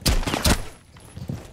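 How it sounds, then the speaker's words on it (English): Rapid gunfire in Rainbow Six Siege, two loud, sharp bursts close together at the start, then quieter scattered shots trailing off. "I can't even hear myself talk over this fucking loud ass gun."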